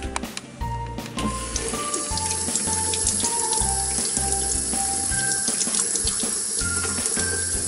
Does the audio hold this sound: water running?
yes